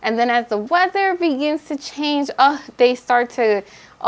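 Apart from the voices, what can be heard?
None of the usual background noises is heard.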